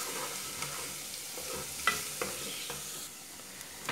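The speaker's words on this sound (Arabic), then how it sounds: "شوية ثوم برك، ثلاث سنات، نقليهم مليح مع الزيت." Three garlic cloves frying in oil in a pan, a steady soft sizzle with occasional sharp stirring taps and clicks of a utensil, fairly close and without talk.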